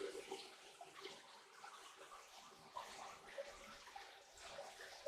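Water splashing and spattering through a DIY recirculating gold high banker, a steady, fairly quiet outdoor wash of falling water with small splashy bursts and no talk.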